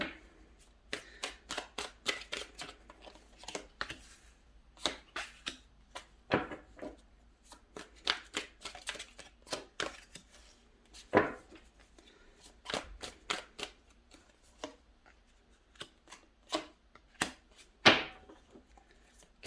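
Modern Witch Tarot deck being shuffled by hand, a long run of irregular crisp riffles and card slaps up close, with occasional faint speech in the background.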